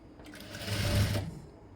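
Sewing machine stitching a blouse, a short close whirring burst that swells and fades over under two seconds, alone without talk.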